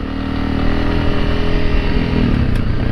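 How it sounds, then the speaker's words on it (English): Honda CRF300L Rally motorcycle fitted with a loud Moto X exhaust, riding steadily with a constant, close, throaty engine drone throughout. "This Moto X exhaust is obnoxiously loud."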